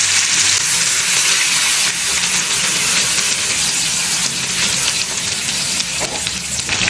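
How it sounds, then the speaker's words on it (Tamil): Fish frying in a pan of hot oil on a stove for fish biryani, a steady close sizzle and hiss with crackling spatter that carries on without pause. "இதில் வந்து இப்போ வந்து ஃபிஷ்ஷை வந்து ஃப்ரை பண்ணுறேன்"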